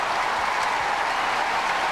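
Wimbledon crowd at the 2003 final claps for Philippoussis, a steady, full burst of applause from a large audience, loud and continuous throughout with no talk over it.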